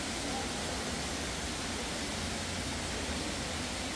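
Indoor waterfall pouring inside a glass-roofed tropical rainforest dome, a steady broadband rush of falling water filling the space evenly throughout with no voices.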